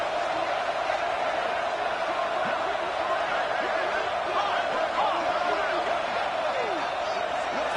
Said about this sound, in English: this crowd rises up to try to make it tough